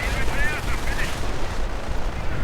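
Rapid, continuous MG42 machine gun fire in a World War II strategy video game, a dense rattling burst that fills the whole moment alongside distant battle noise.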